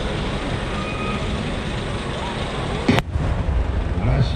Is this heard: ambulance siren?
no